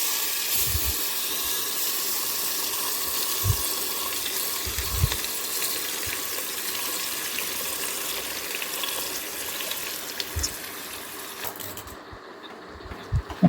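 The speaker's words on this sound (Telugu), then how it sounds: "పప్పు ఉడుకుతుంది కదా." Dal simmers in a pot while cooking palakura pappu (spinach and lentils), a steady close hiss and bubbling with occasional low thumps, fading out near the end.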